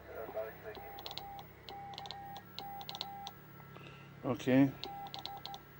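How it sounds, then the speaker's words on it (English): A Kenwood TS-570D transceiver, recently repaired for a CW fault, sends Morse code from an ordinary hand key into a dummy load as short, evenly pitched beeps in irregular groups, with a voice speaking briefly partway through. "got a little ordinary Morse key here hooked up to a dummy load"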